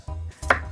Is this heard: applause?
no